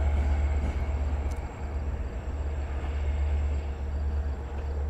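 A loud, steady low rumble of a Long Island Rail Road train rolling onto the south siding of the Speonk rail yard, with a constant drone and faint metallic squeals above it.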